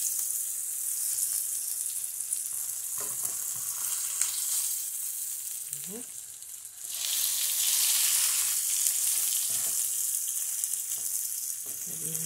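Chicken breast fries in a pan with a steady close sizzle, broken by a few clinks and a brief scrape as the pieces are turned, then louder crackling.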